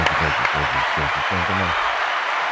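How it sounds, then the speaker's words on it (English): A studio audience on a talk show applauds in a steady, continuous wash of clapping while someone talks over it. "Let's give me a round of applause again."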